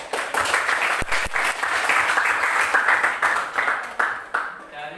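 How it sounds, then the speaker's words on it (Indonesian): A classroom audience claps after a group presentation, giving dense, sustained applause that stays loud for about five seconds before thinning at the end. "Kita berikan tepuk tangan."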